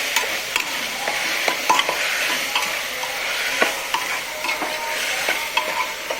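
A large batch of potatoes sautéed for masala rice, stirred steadily in a pan with a loud, continuous sizzle and frequent sharp scrapes and clicks of the spoon against metal, close by and without speech.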